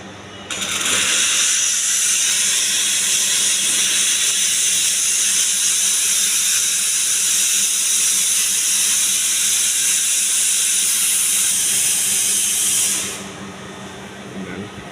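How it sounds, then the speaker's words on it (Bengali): A restaurant coffee machine lets out one long, loud, steady steam hiss lasting about twelve seconds, close by, before it cuts off abruptly into quieter room noise. "তো এখন কফি মেশিনটা একবার চেক দিই"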